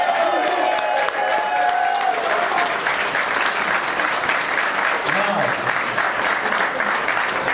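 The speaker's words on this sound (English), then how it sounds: "give him a warm round of applause" Sustained loud applause from a crowd at a get-out-the-vote political event, dense steady clapping with some cheering mixed in throughout.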